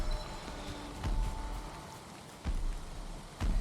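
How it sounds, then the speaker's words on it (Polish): Steady rain hiss falls in the video game Valheim, with a few heavier soft thumps breaking in at regular intervals; no voices. "teraz deszcz zaczął padać"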